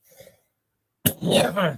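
A single sharp, close cough bursts out after a moment of near silence, followed by a short rough throaty rasp.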